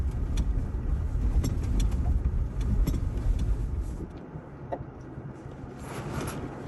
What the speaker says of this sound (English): This was the only vehicle that we actually saw on the trail in that entire day.